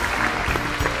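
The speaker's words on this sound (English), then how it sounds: "Let's hear a round of applause for the President of the United States" Dense audience applause fills a short moment on a late-night talk show after the President of the United States is introduced, steady and loud throughout.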